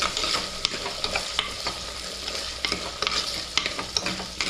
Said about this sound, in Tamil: வெங்காயம், பூண்டு, கருவேப்பிலை போட்டு